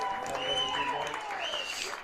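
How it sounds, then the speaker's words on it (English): Rugby crowd in the stands at a men's match against Ohio State cheering and clapping after a successful kick, a steady, fairly loud wash of applause with voices mixed through it for the whole stretch. "the stands seem to have quite a few Ohio State fans cheering for their team"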